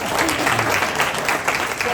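Audience applause, a steady dense wash of many hands clapping throughout, loud and close, with faint voices mixed in.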